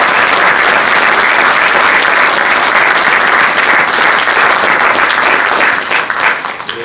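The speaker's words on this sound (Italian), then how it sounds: "credo che possiamo dedicargli un bel applauso." Loud, dense applause from an audience at a cultural club talk on Russia and Ukraine, sustained for several seconds before thinning out at the end.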